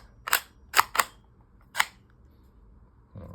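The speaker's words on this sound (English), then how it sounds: "Let's pop this mag in. And then show you that it locks back." Magazine seated in a Tommybuilt T7 rifle and the bolt catching back, heard as four sharp metallic clicks and clacks close by in a quiet room, spaced unevenly over a couple of seconds, with no talking.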